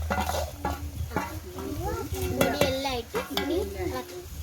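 Onion and spice powders (chili, coriander, turmeric, pepper, fenugreek) with ground paste stir-fry in a pan, a close, steady sizzle broken by scraping stirs, with a voice speaking over it.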